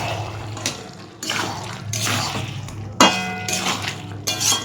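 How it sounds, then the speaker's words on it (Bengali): Chicken curry with its released juices being stirred in a pan, a spoon scraping and clinking against the metal in several close, fairly loud bursts, with a sharper clink partway through. "আর একটু নেড়ে দেবো"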